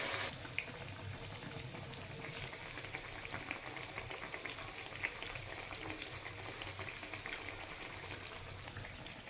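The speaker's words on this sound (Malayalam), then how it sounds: "തിളയ്ക്കുന്ന എണ്ണയിലിട്ട് കൊടുക്കാം." Banana fritters dipped in batter frying in boiling oil, tea-stall style, a steady close bubbling sizzle with faint crackles throughout.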